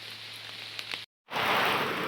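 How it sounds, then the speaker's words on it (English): Relentless storm rain pours steadily onto a camping hammock's tarp on a UK hillside, a dense continuous hiss that drops out briefly and returns louder. "the rain has calmed down a bit, but it's still quite relentless"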